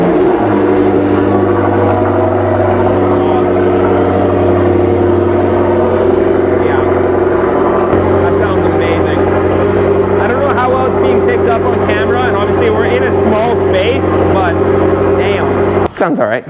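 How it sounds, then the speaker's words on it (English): McLaren 650S running factory McLaren exhaust with downpipes, idling loudly with a steady deep drone and rising revs, while people talk over it throughout. "It's factory McLaren exhaust, downpipes."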